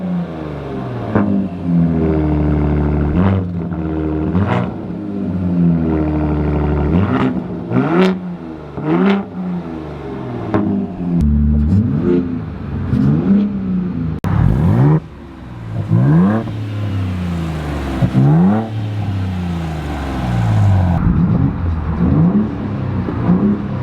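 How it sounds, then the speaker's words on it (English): A Ford F-150 Raptor with active exhaust revs hard and close, with repeated sharp throttle blips climbing to a loud, screaming pitch and dropping back, a burst of rapid revs followed by longer pulls, with no talk over it. "Like the active exhaust, this thing screams compared to the Bronco."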